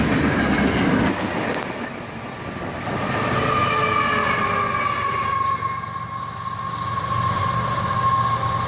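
A CSX freight train led by a single ES44AC locomotive rolls past, its steady rumble and clattering wheels carrying a long squealing tone that swells and fades over several seconds, with no talk.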